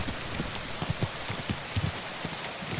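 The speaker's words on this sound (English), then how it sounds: "Bloody rain." Rain in Kingdom Come Deliverance 2, a steady patter of drops on a surface with scattered louder splats, no voices.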